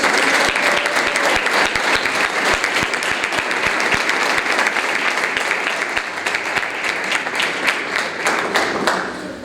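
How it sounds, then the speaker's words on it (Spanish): Church congregation at an Asamblea de Dios youth camp applauding loudly and continuously, a dense wash of many hands clapping at close range that holds steady throughout. "¿Se animan a aplaudirle fuerte a Dios?"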